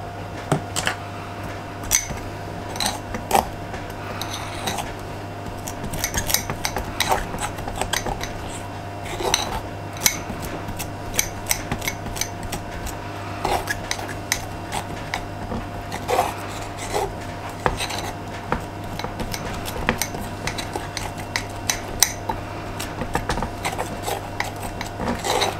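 Soft butter being worked together with icing sugar into a paste in a bowl, giving steady scraping, tapping and rubbing of a utensil against the dish over a constant low hum, with no talk.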